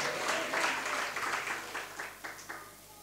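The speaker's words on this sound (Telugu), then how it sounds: "చప్పట్లు కొట్టు గట్టిగా స్తోత్రం చెబుదాం." A church congregation claps together during a sermon, a loud burst of applause that thins into uneven, fading rounds of claps over a few seconds.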